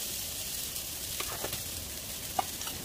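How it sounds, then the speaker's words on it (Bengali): Potatoes and raw banana fry in mustard oil in a kadai, giving a steady, even sizzle throughout with a few faint stirring clicks. "কড়াতে আমি অল্প একটু সর্ষের তেল দিয়ে প্রথমে আমি আলু আর কাঁচা কলা ভেজে নেব"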